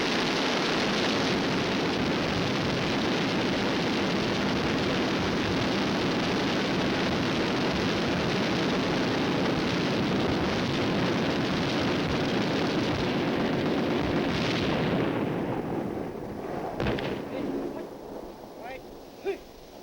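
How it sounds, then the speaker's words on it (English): Tanks firing 90mm main guns together with several machine guns, a dense continuous roar of gunfire and blasts that fills the air loudly for about fifteen seconds before dropping away into quieter rumbling. "only fired 13 seconds. You can see the added firepower that we have within those tanks."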